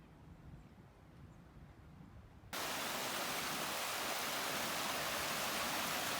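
Steady broadband rushing of the Ohio River flowing, quieter at first and then jumping abruptly louder and closer, continuous with no voices.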